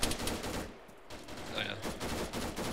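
An AK rifle firing 7.62 rounds in Arma 3 rattles off quick shots in a brief volley, with a short lull before more fire and game noise resume.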